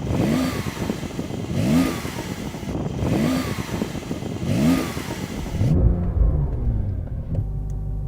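A Dodge Challenger Demon or Porsche 911 Turbo S sports car engine revs repeatedly against a soft limiter around 4,500 RPM, loud rising roars in a steady rhythm before settling into a low idle rumble.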